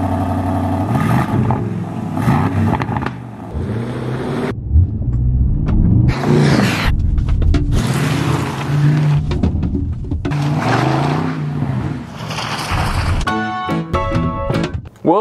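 Aston Martin DBX SUV engine revving hard and accelerating, a loud continuous rumble rising and falling in pitch across the run, with a sharp rapid burst of pops near the end.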